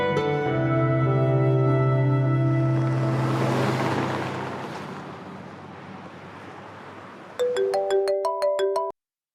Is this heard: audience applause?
no